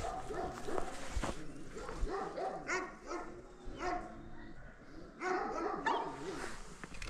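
Several dogs barking and yipping in bursts, loud and close, with whimpers in between and a busy, noisy background.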